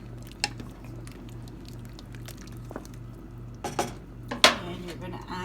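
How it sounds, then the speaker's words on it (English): Beef stew with carrots and garlic being stirred in a pot: soft wet squelching and scraping with a few sharp clinks of a utensil against the pot, the loudest near the end, over a low steady hum. "now what we're going to do is add our carrots, and I've put the garlic in there, and you're going to stir this around"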